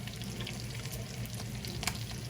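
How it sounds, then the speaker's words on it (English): Steak sizzles in a hot frying pan greased with Crisco, a continuous loud frying hiss with small pops and crackles and no talking. "Get yourself your frying pan,"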